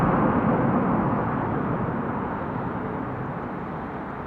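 A jet airliner landing at Amsterdam Schiphol with thrust reversers deployed, heard as a loud, steady broadband roar that slowly fades over a few seconds, with no voices.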